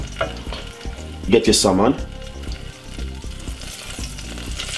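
Extra virgin olive oil sizzles and fries steadily in a pan while salmon is being cooked, a crackling layer running under a voice and some brief kitchen clatter.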